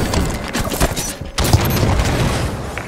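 Grenade tossed and exploding in Halo 5 Coliseum Slayer, a dense burst of booms and rattling gunfire filling the whole stretch, loud and close with a brief dip before the blast continues.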